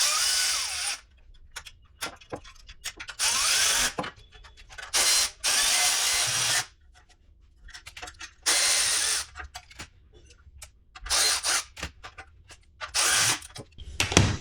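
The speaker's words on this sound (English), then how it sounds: "I'm gonna work on getting these other hose clamps tightened down" Hose clamps on a TAB Performance Redline Shorty 2-1 motorcycle exhaust are tightened with a power driver, loud close bursts of whirring drive separated by short quiet pauses and a few small ratcheting clicks.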